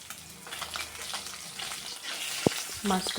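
Fish frying in hot oil for a light jhol curry, a close crackling sizzle that swells and eases as the browned piece is turned over, with a sharp utensil knock near the end.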